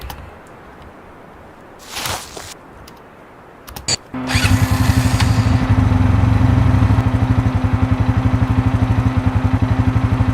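A four-wheeler ATV engine in a whitetail hunting video game starts up after a few faint clicks and thumps, then idles and revs loudly and steadily with a rapid, pulsing throb close by.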